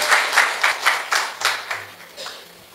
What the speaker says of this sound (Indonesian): Boleh tepuk tangannya di extend buat tim praise and worship kita.